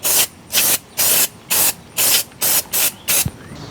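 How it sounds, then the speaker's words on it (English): Brake cleaner sprays onto the front brake rotor of a 2002 Saturn SL sedan in eight loud, close hissing bursts of about a quarter second each, evenly spaced, with a small clink near the end. "I like to clean the rotor again."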